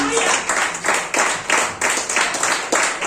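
Church congregation clapping hands in repeated bursts of crowd applause, fairly loud and close, filling the room with steady waves of claps.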